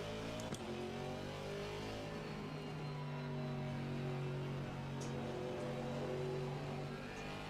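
A Mercedes-AMG GT4 race car engine in Assetto Corsa Competizione hums and revs in steady tonal layers, rising and settling as it drives, loud and close with no talking.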